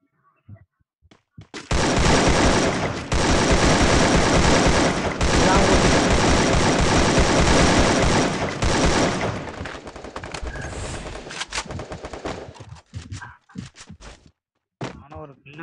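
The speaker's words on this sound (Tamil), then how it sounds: "நான் ரெண்டு தடவை சுட்டேன்" Gunfire in a PC shooting video game: dense, loud automatic bursts and rapid volleys for several seconds, then sparser scattered shots and thuds, with voices talking over it.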